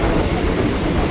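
Local train running on the short Majerhat line in Kolkata, a steady loud rumble of rolling wagons with a brief high squeal partway through, no voices.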